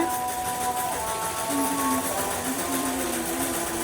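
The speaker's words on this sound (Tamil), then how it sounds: "இது ஒட்டி ஒரு தையல் போட்டுருங்க. ஓர தையல், ஃபினிஷிங் தையல் மாதிரி சூப்பராகிடும்." A sewing machine runs steadily, stitching a finishing seam along the edge of a garment during a tailoring class, a continuous mechanical whir with faint tonal hum and no talk.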